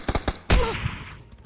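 A single loud gunshot in PUBG cracks out sharply, followed by a ringing decay; a few softer thuds or steps come just before it.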